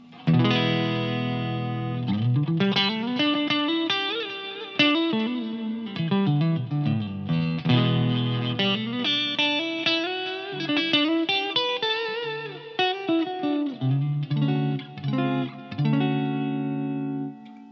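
An overdriven electric guitar through a Blackstar Silverline Deluxe head amp in EL84 power tube mode plays a melodic run of sustained, distorted notes with chords, loud and close, with a touch of reverb.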